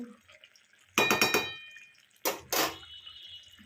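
A lid clattering onto a pan of Bengali fish-oil puin shak chochori, with a ringing metallic clang, then a second pair of clanks and scrapes from stirring, in an otherwise quiet kitchen.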